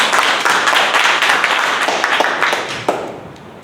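Audience applause for a contestant at a Toastmasters table topic contest, a dense steady crowd clapping that holds for a few seconds before tapering off.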